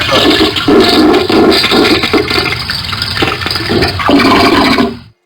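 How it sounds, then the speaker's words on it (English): Toilet flush sound effect played by a free computer cleanup program, a loud rushing gurgle of water that surges in bursts and drains away abruptly at the end, with no talk. "literally sound like a flush toilet"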